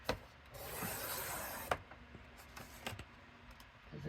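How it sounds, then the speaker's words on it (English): A paper trimmer cuts a sheet straight for layered die-cut crafts, making a close, quiet scraping slide followed by sharp clicks and small taps as the blade and paper settle. "So I'm gonna start by just trimming this off."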